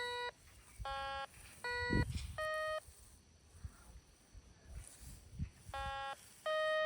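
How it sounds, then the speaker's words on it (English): A metal detector sweeping over a target gives repeated short, steady electronic beeps in pairs and runs, with soft rustling from the ground between them. "when you hear that beep, then you get closer to it"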